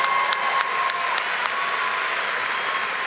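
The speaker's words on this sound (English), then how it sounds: "We can give her a round of applause even though she's not here." Graduation crowd at a high school commencement claps steadily for the whole stretch, a dense, even wash of applause from many hands with a faint tone running underneath.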